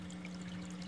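Water pours steadily into a 1.25-inch Durso standpipe overflow weir in an aquarium, dropping about 2.5 inches inside it. The flow makes a constant close trickling rush with a low steady hum underneath.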